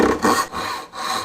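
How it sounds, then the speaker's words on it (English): A hand saw cuts dovetails in wood with three rasping strokes in a steady back-and-forth rhythm, close and fairly loud, each stroke separated by a brief dip. "trying to saw right down to my line"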